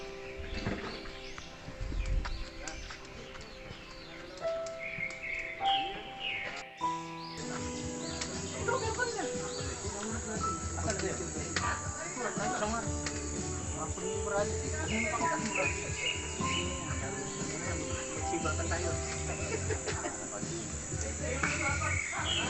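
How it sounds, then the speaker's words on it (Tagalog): Birds chirp around a campsite in short, scattered tweets and calls over a busy background of ambient noise and nearby activity. "may ibon"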